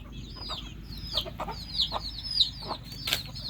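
Chickens on a poultry farm give repeated short, bright clucks at close range over a low steady background hum, in an uneven rhythm of about five calls.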